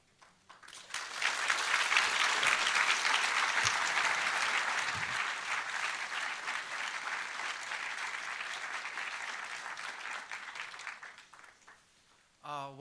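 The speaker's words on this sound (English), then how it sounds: "One more big round of applause for His Holiness." Sustained audience applause for His Holiness at a Center for Living Peace talk, a dense steady clapping that swells quickly and holds loud for about eleven seconds before cutting off.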